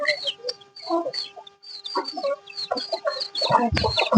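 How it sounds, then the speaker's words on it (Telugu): Native country chickens cluck in short, repeated bursts close by at a tribal farm in Rampachodavaram, Andhra Pradesh, several birds overlapping with a louder squawk near the end. "కోళ్ళు మా ఏజెన్సీలో ఇలా పెంచుతాం"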